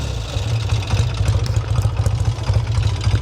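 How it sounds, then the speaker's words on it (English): A 1968 Triumph Bonneville T120R 650cc motorcycle engine idles close by with a smooth, even low throb and a light mechanical patter, steady throughout with no talking. "The engine's super smooth and quiet. Give you a little listen to that."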